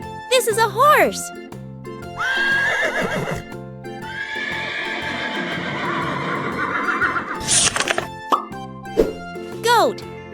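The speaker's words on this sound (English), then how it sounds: "This is a horse." A horse in a children's farm-animal vocabulary lesson lets out a long, loud whinny with clip-clopping hooves, framed by playful chimes, plops and jingly effects at the start and end.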